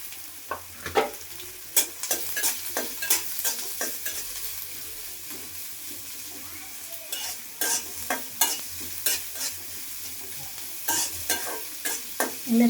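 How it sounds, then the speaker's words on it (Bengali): Garlic and onion frying in a pan, with bursts of stirring and scraping over a soft, steady sizzle, close and fairly loud, no voices. "এগুলো সুন্দর করে একটু ভাজা ভাজা করে নিই।"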